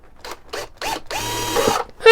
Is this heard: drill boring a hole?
yes